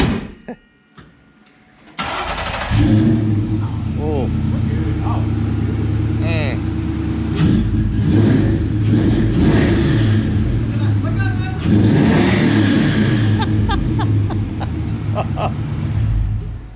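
A Ford Coyote V8 with a full 3-inch exhaust fires up and idles with a deep rumbling exhaust, revving up loudly a few times, with people talking and exclaiming nearby.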